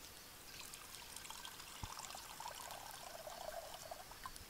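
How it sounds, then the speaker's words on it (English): Water is poured steadily at a primitive stone-age bushcraft camp, a soft, continuous trickle close by, faint against outdoor background and without talking. "we can pour some water"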